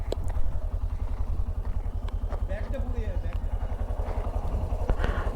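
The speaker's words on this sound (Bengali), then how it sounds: "তিমির আসছে বাইক নিয়ে" A motorcycle rides along a rural road near a lake and river, its low engine throbbing steadily at close range beneath people talking.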